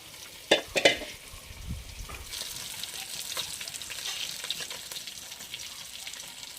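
Oil sizzles and crackles steadily as a fish head fries in a pan, after a couple of sharp clinks and a stirring scrape at the start.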